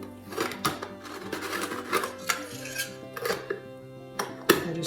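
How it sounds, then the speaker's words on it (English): A metal lid with a big spring being fitted onto a kitchen pot, repeated clanks, rattles and metallic scrapes in irregular bursts, close up with ringing tones between the knocks. "And then the lid goes on."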